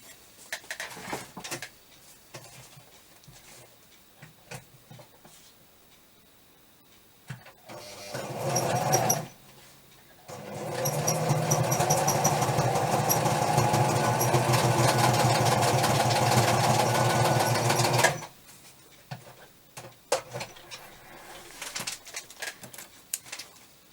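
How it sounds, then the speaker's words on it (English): A sewing machine stitches a small scrap-fabric folder: a short whirring burst, a pause, then a longer steady motor hum of about eight seconds before stopping, with quiet handling clicks in between. "maybe I'll put a stitch across there"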